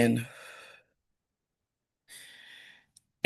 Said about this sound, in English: So the point of the deep breathing of is to fill your lungs with air and then hold it